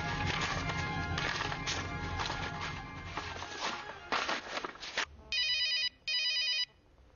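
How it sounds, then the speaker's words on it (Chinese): A telephone rings in two distinct electronic bursts near the end, each about half a second long, following a stretch of dramatic background music. "刘云华拨通了南溪县水利局水政监察大队李建军副队长的电话。"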